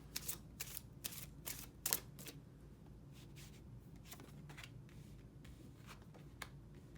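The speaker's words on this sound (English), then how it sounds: "Not the best shuffle on my part" Quiet riffling and soft slaps of tarot cards being shuffled, in several short bursts that thin out toward the end.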